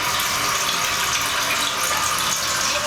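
A toilet with a newly replaced lever flushes, and water rushes and gushes steadily and loudly nearby without a break, with no one speaking.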